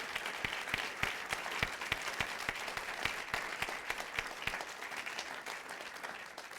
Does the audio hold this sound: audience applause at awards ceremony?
yes